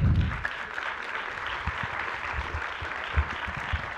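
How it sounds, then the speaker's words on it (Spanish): Audience applause at a scientific publishing workshop, a steady wash of clapping that starts loud and settles into a fairly even, moderate level. "Un aplauso, por favor."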